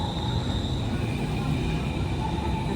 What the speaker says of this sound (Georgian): ეს ახლა ტრამვაი